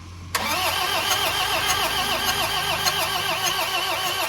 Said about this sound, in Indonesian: Ini kita coba starter dulu, kita coba hidupkan.